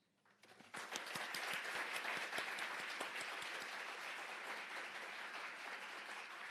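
Audience applause closes a forum, a dense wash of many hands clapping that swells quickly and holds steady, moderately distant and without voices over it.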